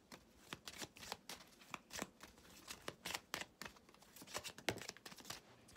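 Tarot cards being shuffled by hand, a quiet, steady stream of crisp riffling snaps and soft slides, close and unaccompanied by talk.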